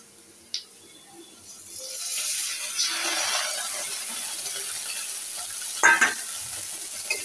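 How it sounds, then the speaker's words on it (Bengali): Spices frying with browned onions in a pan, a steady close sizzle building after a sharp clatter near the start, with a brief louder spatter or stir near the end. "তো এখানে দেখো পেঁয়াজটা ভাজা হয়ে গিয়েছে"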